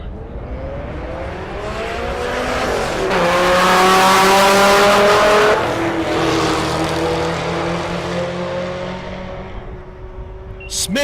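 Pontiac GTO and Dodge Viper launch side by side down a drag strip, engines roaring loud and close with rising gear pulls that swell to a peak, then trail off as the cars pull away.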